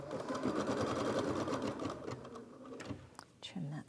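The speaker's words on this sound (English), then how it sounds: "So now we're going to stitch the stem." A green-thread embroidery machine stitches a flower stem in the hoop, a steady rapid mechanical whirring running close and loud, easing off toward the end with a few brief clicks.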